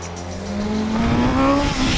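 A BMW S1000RR motorcycle engine in race mode revving up loud and close, its pitch climbing steadily as it accelerates hard, with no one speaking.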